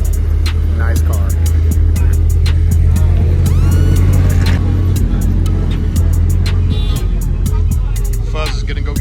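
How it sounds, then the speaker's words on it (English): A line of off-road race cars idles and rolls through tech and contingency at the 2020 Mint 400, loud engine rumble close by with people talking over it and scattered sharp clicks. "Just cruising with the cars through tech and contingency."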